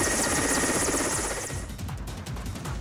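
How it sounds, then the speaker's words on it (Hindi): An Air Force helicopter rescuing people stranded by floods in Surendranagar, Gujarat, roars loudly and continuously with a steady rotor chop, dipping slightly in the latter half. "गुजरात के सुरेंद्रनगर में बाढ़ में फंसे लोगों को वायुसेना के हेलीकॉप्टर ने बचाया।"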